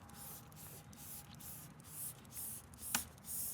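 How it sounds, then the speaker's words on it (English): Labocosmetica Preludio acidic cleaner is sprayed across a car in several quick, quiet hissing pumps from a spray bottle, close by with no talking. "and just really quick, we spray across."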